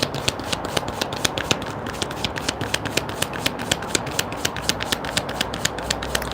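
Tarot cards are shuffled by hand in a fast, steady run of crisp riffling snaps, close and clear, with no talk over them.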